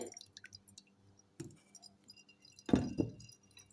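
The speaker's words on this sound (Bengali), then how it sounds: "এখন ছেঁকে নিচ্ছি চাকনি দিয়ে" Tamarind juice made with lemon is strained through a metal sieve. Quiet, sparse drips and small clinks are followed by a louder splash and pour near the end, with no voices.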